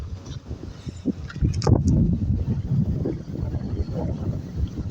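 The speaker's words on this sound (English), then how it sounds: "It's a little windy." Wind gusting outdoors at night beside railway tracks, a steady low roaring rush buffeting the microphone throughout, swelling louder about halfway through, with faint voices briefly audible.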